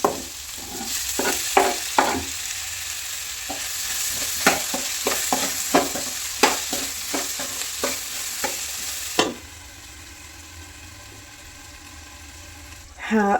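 Chopped tomatoes fry and sizzle in a pan for a bitter gourd gojju, with a spoon stirring in repeated scraping strokes for about nine seconds before the sizzle settles into a steady, quieter hiss.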